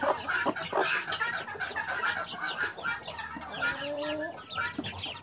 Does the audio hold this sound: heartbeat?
no